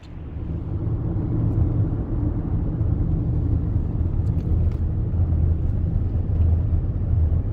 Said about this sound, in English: I'm gonna hop in the vehicle right now and head down the road to Dinosaur National Monument